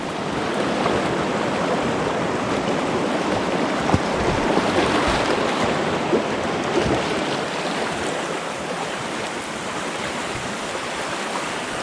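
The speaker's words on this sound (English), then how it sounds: "Cool to drop into the creek in new spots." Creek water in Tasmanian gold country rushes and splashes continuously, a loud, steady broadband wash close by with no voices.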